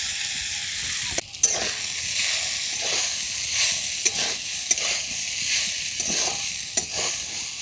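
Grated sweet potato fries in ghee in a wok, giving a steady soft sizzle broken by several sharp stirring scrapes and clacks of a spatula, with no talking.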